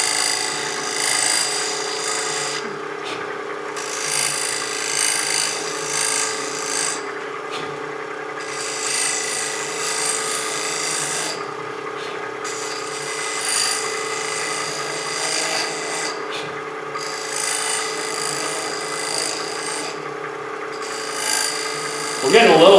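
A wood lathe spins while a scraper works a wooden basket piece, giving a continuous rough raspy scraping hum that swells and drops in rhythmic passes with short gaps, close and loud.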